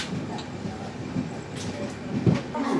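The Doon Express moves along the rails near Bandel Junction, a low rumbling run with soft clattering wheel knocks and occasional faint squeals, heard from on board at moderate volume.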